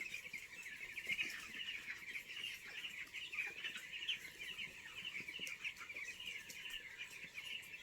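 Broiler chickens at seventeen days old cluck and chirp softly while eating feed, a steady, dense chatter of many birds close by, with no voices.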